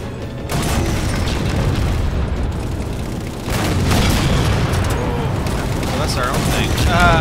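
Heavy gunfire and booming blasts from the video game Halo 4 fill the clip, loud and continuous, with dense bursts of shots and explosions layered over one another.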